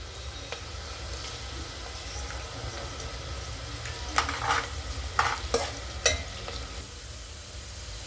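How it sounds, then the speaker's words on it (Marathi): Cumin and mustard seeds go into hot oil with browned onions, making a continuous close sizzle over a low hum, with a cluster of sharper crackling pops midway. No speech. "जिरे मोहरी टाकूयात 2 चमचे।"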